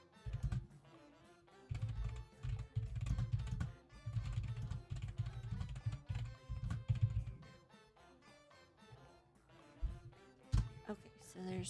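Computer keyboard typing comes in bursts of dense, rapid clicks with brief pauses between them, fairly quiet and close, with no talking.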